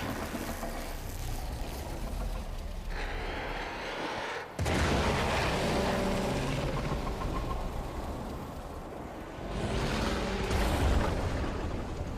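A loud explosion in the sci-fi game Warframe breaks out midway as a sudden broad blast, with heavy rumbling and debris-like roar that swells again near the end.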